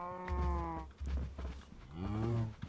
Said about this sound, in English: Sorry, cows. I need to take some of your meat.